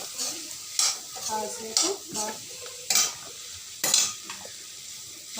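Food being stirred and fried in a pan for a Kerala-style dish, with repeated scraping strokes of a spoon against the pan over a continuous sizzle; a voice briefly speaks between strokes.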